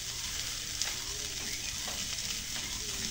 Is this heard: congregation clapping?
no